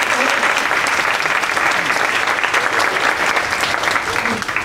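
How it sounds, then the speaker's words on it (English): A crowd gives a strong, continuous round of applause, loud and evenly dense for nearly five seconds, tapering slightly at the close. "I think that deserves a round of applause"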